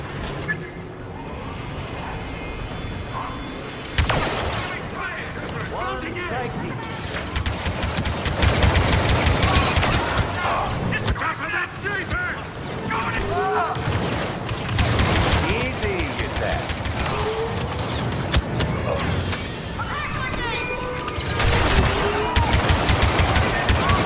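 Sustained blaster gunfire in the video game Star Wars Battlefront II: rapid, loud bursts of shots with explosions and clanks, nearly continuous over a dense game soundscape with voices in the mix.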